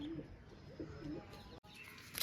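Soft, low cooing from pigeons in a village pigeon-flying setting comes in a few gentle repeated phrases, fairly faint against a quiet background hiss.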